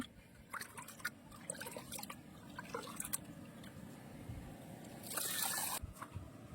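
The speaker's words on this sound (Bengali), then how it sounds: "বন্ধুরা আমরা ঘেরির জলে চালটাকে ধুয়ে নিচ্ছি" Rice being washed by hand in pond water outdoors, with soft sloshing and trickling splashes, irregular and close, rising to a brief louder splash near the end.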